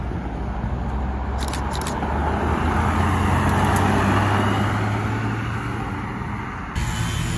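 Porsche GT3 RS with a 4-litre engine arriving at a supercar meet, a steady low engine rumble rising and holding throughout, close and fairly loud, with no talk.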